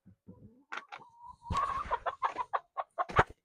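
Backyard chickens cluck close by in a short run of quick, uneven calls, rising into a busier burst of clucks toward the end.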